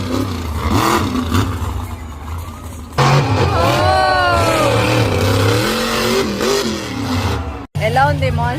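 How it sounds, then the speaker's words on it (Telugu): Two monster trucks released to race at once, engines revving and roaring loudly with sweeping rises and falls in pitch, a sharp cut near the end, and voices faintly mixed underneath. "రెండు మాన్స్టర్ ట్రక్ ని ఒక టైం కి వాళ్ళు రేస్ కి వదులుతున్నారు"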